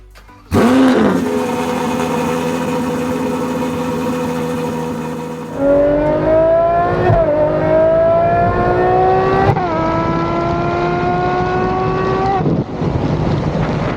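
A Ferrari 812 Competizione with a custom exhaust starts up with a sharp bark, idles, then revs and accelerates in rising, harmonically rich pulls, loud and close, with brief gear-change dips.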